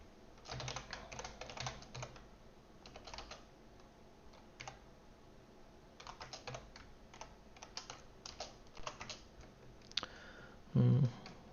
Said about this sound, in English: All right, a lot of typing.